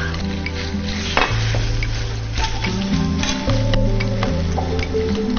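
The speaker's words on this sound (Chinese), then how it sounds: "我们拿来先炒香三文鱼" Salmon pieces stir-fry in a wok for salmon fried rice, giving a dense, loud sizzle with a spatula scraping and clattering against the metal throughout, no talking.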